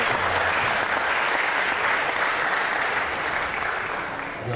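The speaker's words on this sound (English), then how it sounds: "Let's clap for our..." Sustained applause from a conference audience at a medical college plenary session, a thick, even wash of many hands clapping that holds steady and fades slightly at the end.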